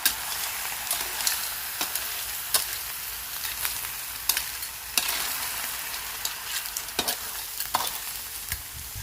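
Surf clams stir-fried with sweet basil, seasoning powder and oyster sauce in a hot pan make a steady sizzle, broken by sharp scrapes and clacks of a utensil stirring at irregular intervals, close up and without speech.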